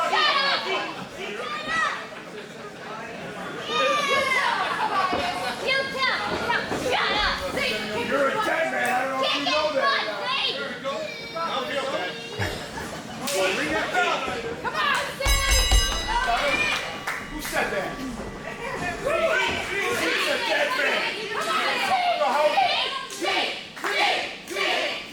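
Wrestling crowd packed into the Craig Center arena at a JWA event, a loud sustained roar of cheering, shouting and chatter that never lets up, with a heavy thud near the middle.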